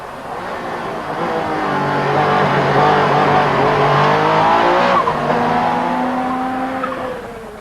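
Race car lapping a flat airfield test track, its engine note loud and sustained throughout, rising and falling through gear changes with faint tire scrub at the limit of grip; no voices.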